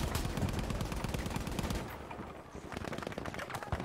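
Sustained automatic gunfire in Battlefield 5, dense rapid bursts loud and close through the first half, then continuing slightly quieter with sharp repeated shots toward the end.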